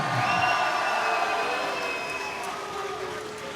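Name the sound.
crowd cheering for fighters entering at an MMA event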